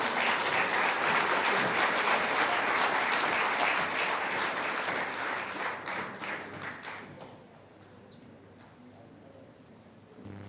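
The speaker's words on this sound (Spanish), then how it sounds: "Recibámosles con fuertes aplausos" Loud applause from a church seminar audience welcoming a musical group, dense clapping that holds steady for several seconds, then thins out and fades to a quiet room with a few stray claps.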